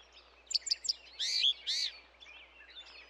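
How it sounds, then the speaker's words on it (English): A cartoon bird perched on a branch chirps three quick high tweets, then gives two longer bright trills and a few fainter calls, clear and alone with no talking. "I want to be just like that bird, sitting on that branch."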